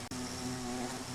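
Diamond bee from modded Minecraft buzzing close and steady, a continuous droning hum after a brief click at the start.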